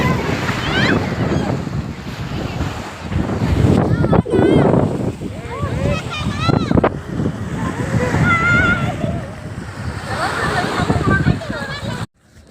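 Surf rushes and crashes continuously at Dhanushkodi beach near Rameswaram, with heavy wind buffeting the microphone, while people talk throughout close by.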